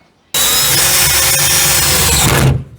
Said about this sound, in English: I believe I'm just going to use a hole saw